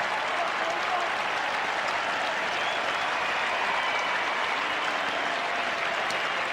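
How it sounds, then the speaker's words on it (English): Essendon supporters at the 2000 AFL Grand Final against Melbourne applaud steadily as a player leaves the field, a broad continuous wash of stadium clapping heard from a distance. "And I would suggest Justin Blumfield will get a very warm round of applause as he comes off for Essendon."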